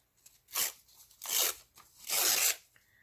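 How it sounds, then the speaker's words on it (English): Paper being torn by hand for a collage, three separate rasping rips spaced about a second apart, close and fairly loud, with near silence between them. "Listen to the way that your paper sounds when you tear it"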